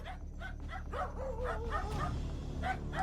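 Dogs captured on security footage bark, yip and whimper in a quick, uneven series of calls, fairly faint and with no talking.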